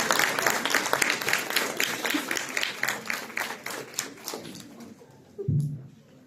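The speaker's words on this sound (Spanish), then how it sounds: "le damos un fuerte aplauso a la doctora." An audience at a nutrition and emotional health congress applauds a doctor with rhythmic clapping that fades after several seconds. A brief voice follows near the end.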